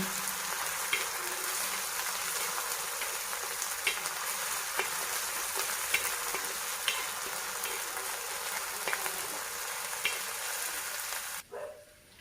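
A steady, close sizzle of onion frying in a pan with ground chili continues for several seconds with occasional crackles, then cuts off abruptly near the end.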